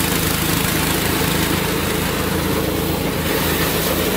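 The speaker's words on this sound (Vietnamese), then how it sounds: "hiện tại là đang lắp động cơ xăng" A petrol engine runs steadily on a combined rice threshing machine built for terraced fields, a loud, continuous droning hum with no pauses and no voices.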